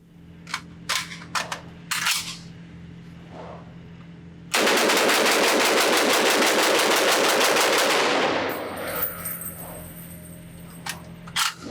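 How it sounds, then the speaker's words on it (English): A PTR-91 .308 short-barreled rifle fires a few sharp separate shots, then a loud close continuous burst of rapid shots for about four seconds before easing off, with scattered sharp sounds after. "see how fast I can pull this trigger, get through a whole magazine, and keep the gun on target"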